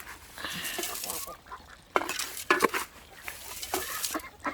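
Ducks quacking among farmyard fowl, a rooster and hens nearby, in a burst of overlapping calls with short pauses, fairly close and moderately loud.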